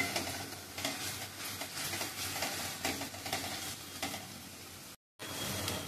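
Gravy for an arbi (taro root) curry cooking in a pan, a continuous soft sizzle with repeated stirring scrapes, faint and close, briefly cut to silence near the end.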